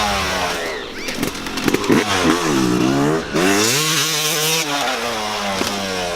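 A small pit bike engine revs hard and buzzes nearby, its pitch rising and falling through repeated throttle blips, loud and continuous.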